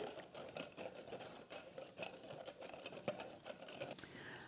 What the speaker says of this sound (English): I'm just gonna whisk that together so everything's incorporated